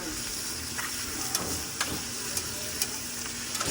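Garlic sizzles in hot bacon grease while onions caramelize in the pan, a steady close frying hiss broken by a few soft scraping stirs.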